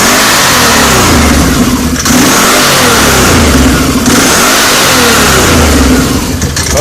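2012 Can-Am Outlander 800 Max XT ATV engine revving up and down in repeated surges while parked, loud and close, the drive clutches engaging as the pitch rises and falls, with no talking.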